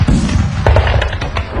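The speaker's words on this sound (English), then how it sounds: "loud explosions rocked the city" Loud explosions rock a city under siege in Peking during the Boxer uprising, a dense series of booming thuds and sharp cracks packed close together.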